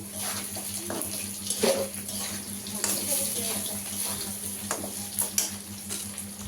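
Chopped onion hits hot oil in a wok that has just finished frying potatoes, a steady hiss and crackle with occasional sharper spits and stirring scrapes, under faint background noise and some quiet talk.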